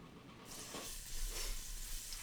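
Minced garlic hits a hot pan for Peking shredded beef, bursting into a soft sizzle about halfway through that keeps on quietly hissing to the end, with no talk.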